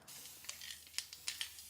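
Cooking spray is sprayed into a 9x13 baking pan: a run of short, fairly quiet hissing bursts, close by, with brief pauses between them and no talking.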